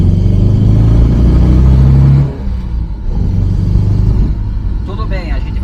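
Engine of a 1982 Volkswagen Gol LS with a Beetle-type motor pulling in second gear, a loud, close, steady drone that eases off partway through, with someone speaking over it.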